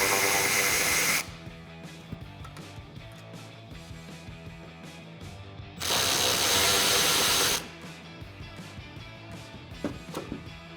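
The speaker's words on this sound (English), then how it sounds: "Grab a ratchet and your Torx socket and remove these bolts." A hand ratchet with a Torx socket removes the taillight bolts on a 2009-2018 RAM 1500, clicking in rapid bursts with quieter clicks and taps in between, all close by.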